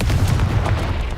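A Confringo fire spell detonates in Hogwarts Legacy, a dense booming blast that fills the whole moment with heavy low rumble and crackle, loud and close with no voices over it.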